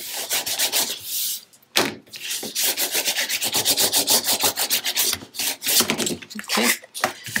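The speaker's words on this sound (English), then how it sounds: "let's go ahead and flip it over and burnish this a little bit" Taped chipboard for a mini album base is burnished by hand, a series of quick, close, scratchy rubbing strokes in a brisk back-and-forth rhythm with short pauses between passes.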